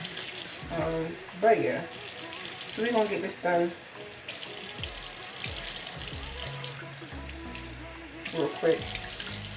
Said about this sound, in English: Sorry y'all having to hear the water.